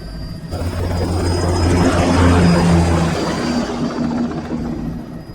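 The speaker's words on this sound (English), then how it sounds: "Commencing takeoff in semi-auto mode." Aircraft taking off in the Metal Gear Rising: Revengeance video game, a loud, steady rotor-like engine roar with low droning hum that swells in the middle and holds throughout, with no talking.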